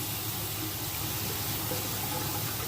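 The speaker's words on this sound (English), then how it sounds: "I'll wipe my hand off a little bit here and wet the razor" Steady running water from a tap wets a Gillette Tech safety razor, a continuous close hiss with no talk over it.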